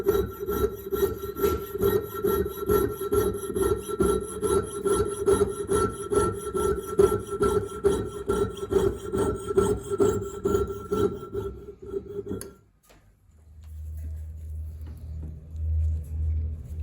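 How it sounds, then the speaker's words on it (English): Rhythmic back-and-forth sawing through the old wooden bed of a VERGE pallet, steady strokes for about twelve seconds before stopping abruptly, leaving a low rumble behind. "I've cut the remains of the bed out, or whatever that big lump was that they'd put in."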